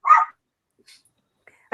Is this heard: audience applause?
no